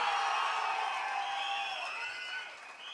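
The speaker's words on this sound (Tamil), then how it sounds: "இந்த கைத்தட்டெல்லாம் பத்தாது, ஒரு பெரிய கைத்தட்டல் தர்றோம்." A crowd at a TVK party third-anniversary rally claps and cheers loudly from start to finish, a dense wash of applause with whoops mixed in, easing slightly near the end.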